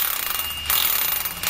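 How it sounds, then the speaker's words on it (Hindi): A power drill bores a hole for a plumbing bush during water-pressure pipe work at a mosque in Islamabad. It makes a steady, loud grinding whine that grows harsher after a brief change partway through, with no talk. "इसमें हम जो है ड्रिल से होल करेंगे और इसमें वो बुश लगाएंगे"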